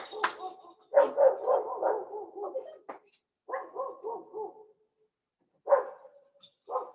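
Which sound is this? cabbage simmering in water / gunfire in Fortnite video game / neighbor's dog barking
neighbor's dog barking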